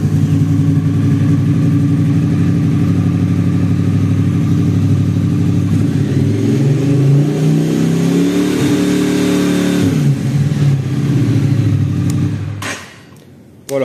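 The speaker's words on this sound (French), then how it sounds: "pour démarrer la moto, il faudra débrayer et appuyer sur le bouton éclair qui est juste là" A 2025 Triumph Speed Twin 900 motorcycle engine runs close by with a low steady throb, then revs up and back down in one smooth rise before cutting off sharply near the end.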